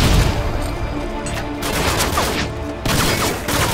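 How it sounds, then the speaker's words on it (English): Grenade launcher fire and explosions in the video game Modern Warfare 2, a dense loud barrage of booms and gunfire rumbling continuously, with sharper blasts near the start and near the end. "The nade launcher is, like... so inaccurate."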